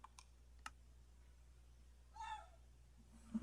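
A cat gives a single short meow at moderate distance, preceded by a few faint keyboard clicks in a quiet room.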